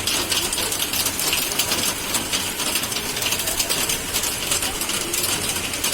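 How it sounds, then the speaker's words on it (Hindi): Heavy rain drumming on a metal sheet roof, a dense, continuous rattling patter of drops that stays even and fairly loud throughout, with no voices. "ये पतरे की वजह से पानी की बूंदें ऐसी आ रही है"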